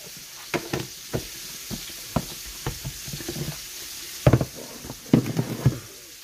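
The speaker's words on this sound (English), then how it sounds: "I'm going to put my apples now into my skillet. Right in that butter." Apples hit hot butter in a skillet and sizzle steadily, with a series of sharp knocks and stirring clatters from a utensil scattered through, close and clear.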